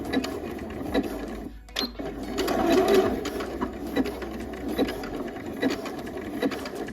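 Home sewing machine stitching a 5/8 inch seam on a sewing-pattern top, a steady rapid whir of needle strokes running close and continuous, with a brief pause and a few faint clicks.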